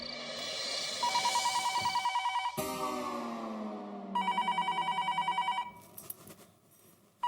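A telephone rings late at night in a house, several bursts of trilling bell rings broken by pauses, fairly close and clear, with a brief clunk near the end.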